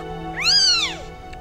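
A 3-day-old Tonkinese kitten with a deformed leg gives one clear, rising-and-falling meow during physiotherapy, close and fairly loud over a quiet background.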